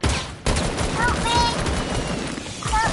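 Dense, continuous video game gunfire with rapid overlapping shots and explosive bursts, loud throughout, with a short drop near the start and a voice shouting over the action.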